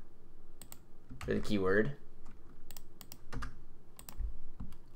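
Keystrokes on a computer keyboard while searching a university course catalog, a handful of sharp clicks spread across a few seconds, interrupted by a brief spoken phrase.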